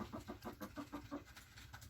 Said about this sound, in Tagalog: dito dumaan ako sa aming manukan. Meron kaming mga manok dito.